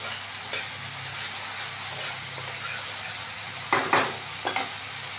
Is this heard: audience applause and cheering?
no